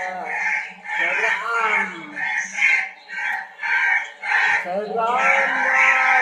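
A crow-call ringtone plays in a repeating series of harsh, rough caws with bird-like rising and falling calls, close and loud, with a voice briefly speaking over it.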